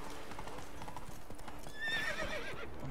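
Rhythmic clip-clop of horse hooves at a quick gait in The Witcher 3: Wild Hunt, with a horse whinnying partway through, game-like and fairly close.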